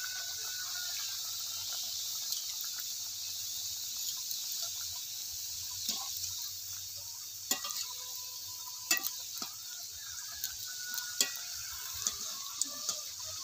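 Singaras deep-fry in hot oil with a steady, fine high sizzle, while occasional soft clicks and utensil taps sound close by.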